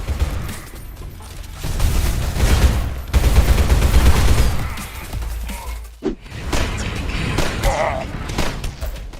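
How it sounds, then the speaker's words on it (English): Bursts of SMG, shotgun and revolver fire from a boomer shooter video game crack and boom in rapid, uneven volleys, loud and close, with a narrating voice talking over the action. "blasting a squad with your SMG, shotgun, or revolver"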